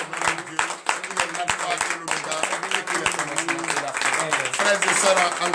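A church congregation at a morning prayer gathering in Benin claps in a quick, rhythmic pattern, the sharp hand claps cutting through a continuous mix of voices and singing.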